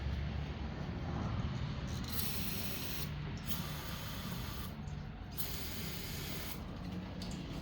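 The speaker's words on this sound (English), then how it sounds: "all I'm using is a carburetor cleaner. I'll run that through there." Carburetor cleaner hisses from an aerosol can into a race engine part, a steady close spray in several long bursts separated by short gaps, fairly quiet with no speech.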